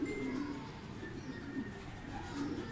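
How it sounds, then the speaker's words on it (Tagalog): Racing pigeons coo softly and repeatedly at a loft during a race lap, the low burbling calls steady and close over a constant background hum. "Ayan yung last bird natin, si Grisel."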